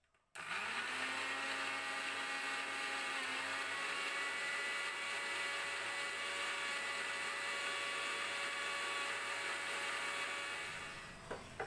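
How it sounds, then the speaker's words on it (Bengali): A kitchen mixer grinder blends ginger, two green chillies and cashew nuts with a splash of water into a paste, a loud steady whirring motor running continuously for about ten seconds before winding down. "এখানে আদা, দুটো কাঁচা লঙ্কা আর কাজু বাদাম আমি মিক্সিতে পেস্ট করে নেব।"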